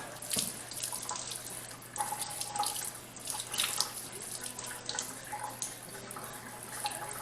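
Running tap water rinsing detergent off a painting at a sink, a steady close splashing stream with shifting spatter as the surface is moved under the flow.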